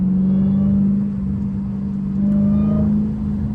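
A Dodge Hellcat at a gas station at night gives a loud, steady, deep engine rumble close by, swelling slightly in a light throttle rev partway through, with no talk over it.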